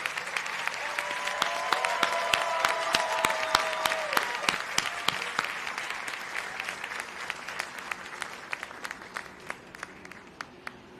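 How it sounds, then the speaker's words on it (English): Audience applause at a USC Doctor of Physical Therapy white coat ceremony, dense clapping from a large crowd that builds, then gradually fades over the span, with a brief sustained tone near the start. "let's give them all a round of applause"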